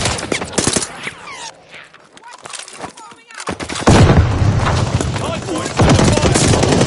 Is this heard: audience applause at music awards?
no